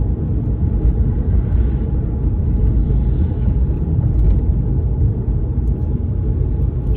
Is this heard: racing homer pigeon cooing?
no